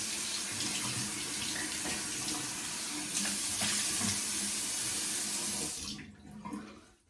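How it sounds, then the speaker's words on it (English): Steady water rushes from a tap into a sink while someone rinses off after a shave, running loud and continuous before cutting off near the end. "let's go ahead and rinse off"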